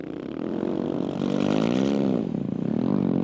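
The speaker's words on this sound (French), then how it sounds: "Et voici Jan Zatko, le Slovaque, sur sa KTM." A KTM rally motorcycle on desert dunes revs up and down, its engine note rising and falling in a close, fairly loud burst lasting a few seconds.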